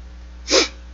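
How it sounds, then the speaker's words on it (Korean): A single short sneeze, close and fairly loud, bursting out against a faint steady background hum with no talking. "재채기가 올라가네요"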